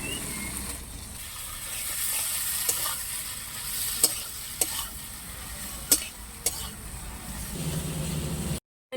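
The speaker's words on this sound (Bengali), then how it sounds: "মশলা কষানো হয়ে গেছে, এবার আলু আর সোয়াবিন দিয়ে দেবো" Potatoes and soybean chunks are stirred into fried spices in a pan, giving a steady low sizzle with occasional sharp scrapes and knocks of the spoon, fairly quiet and ending abruptly.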